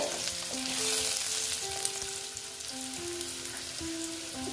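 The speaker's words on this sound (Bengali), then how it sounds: "দেখো মোটামুটি আমার আলু ভাজা হয়ে গেছে" Potatoes fry in a pan with a steady sizzle, while sustained musical tones play over the top. No one speaks.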